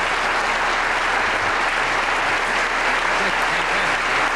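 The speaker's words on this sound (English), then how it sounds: "I think you deserve a round of applause for that" An audience in Sweden applauds a volunteer at a James Randi event, steady dense clapping filling the room from start to finish at a fairly loud level.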